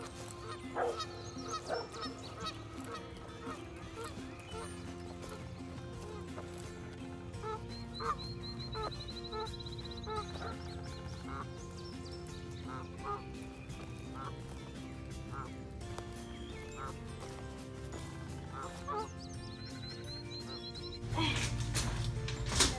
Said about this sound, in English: There's some geese in the yard this morning.